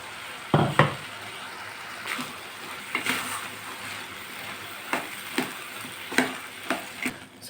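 Ground masala of coconut, green chili and cumin is added to a pan of chayote kootu and stirred, giving repeated scraping strokes over a steady low sizzle, close and fairly loud, with no talking.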